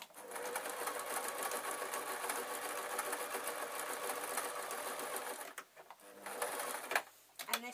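A sewing machine stitches the sides of a fabric tissue packet cover in a fast, steady whirring run that pauses briefly and then resumes in short bursts, close by.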